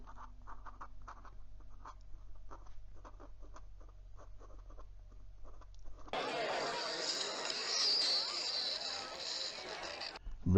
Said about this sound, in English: And for some reverse writing,